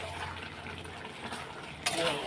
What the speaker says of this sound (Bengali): কষানো হচ্ছে এখন জোর কদমে কষানো হচ্ছে